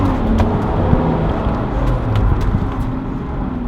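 A 2014 Jeep Wrangler drifts sideways on a street, giving a loud, steady engine roar with rumbling road and tire noise that holds throughout without a break.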